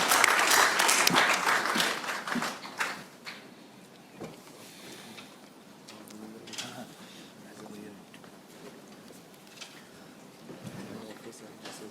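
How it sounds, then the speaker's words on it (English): A burst of applause from an audience at a book launch in New Delhi, loud at first and then thinning out into scattered claps and room murmur. "Let us give him a big round of applause."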